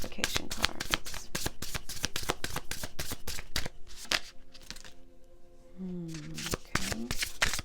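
Tarot cards are shuffled close up in a rapid run of crisp riffling slaps and flicks, pausing briefly before more shuffling as a voice speaks softly underneath.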